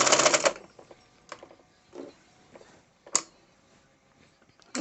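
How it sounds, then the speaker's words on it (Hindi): A sewing machine stitching a second line over an existing seam of a simple girl's salwar: a loud burst of close, rapid mechanical stitching, then scattered lighter clicks and taps as the fabric is handled, with no talking. "इसी सिलाई के ऊपर दूसरी सिलाई लाते हुए हम यहाँ पर एंड करेंगे"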